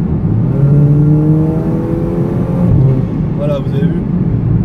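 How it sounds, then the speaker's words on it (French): A 2nd-generation Audi TT with an S-tronic gearbox revs hard under full throttle as the box downshifts, a loud, close engine whose pitch rises steadily, then drops with a short shift blip near the end while someone speaks over it. "Si j'appuie la pédale à fond, vous allez voir que le moteur s'emballe."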